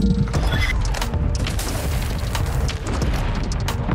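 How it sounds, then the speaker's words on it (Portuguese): Heavy booming mortar blasts rumble through a dense, loud Call of Duty: Warzone 2.0 soundscape, with sharp bursts and mechanical clatter layered over a continuous low roar. "O morteiro tá a caminho."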